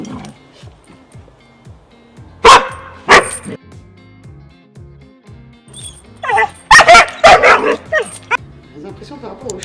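A Border Collie barks in sharp loud bursts, a pair early on and a rapid cluster later, with whimpers and yips between them over a background of ongoing talk and scuffling.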